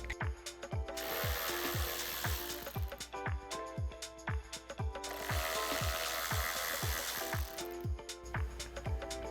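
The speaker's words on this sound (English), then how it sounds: "now our next step's gonna be to remove these 2 T20 screws" Two T20 Torx screws being backed out of a Jeep Wrangler JL four-door Bestop Supertop Ultra soft top with a power driver, in two sustained whirring bursts over steady rapid ratcheting clicks, close and fairly loud.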